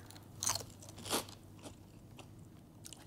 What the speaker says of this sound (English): But can you hear that crunch?